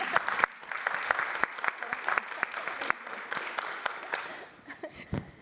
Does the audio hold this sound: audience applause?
yes